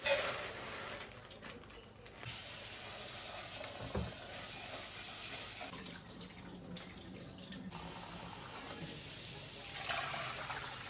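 Tap water runs steadily into a pot at a kitchen sink, filling it with about six cups for cooking lentils, a continuous close rushing with brief clatter near the start.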